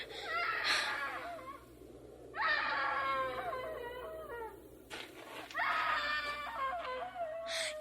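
A woman screams in three long, anguished bursts separated by brief pauses, loud and close with a wailing, wavering pitch.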